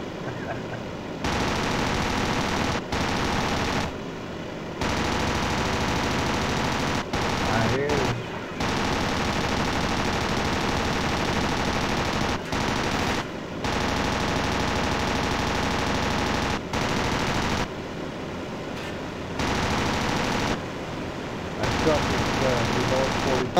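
Anti-aircraft guns fire at an enemy plane aboard a heavy cruiser in World of Warships, producing loud sustained bursts of rapid gunfire broken by short pauses, close and dominant.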